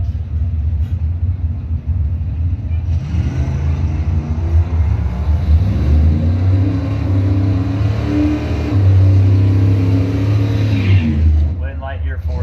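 Drag race between a 1975 Buick Skyhawk and a 1988 Monte Carlo SS, loud engine rumble swelling as the cars accelerate down the strip, with an announcer talking over the roar.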